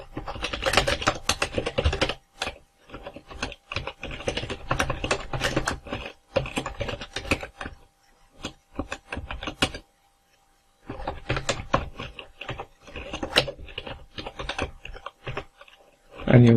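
ActionScript code is typed on a computer keyboard, rapid close key clatter in dense bursts broken by short pauses and one longer silence, with no voice.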